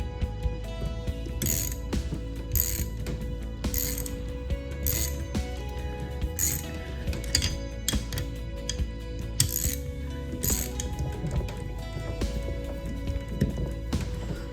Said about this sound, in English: So all you have to do is just loosen the tool up.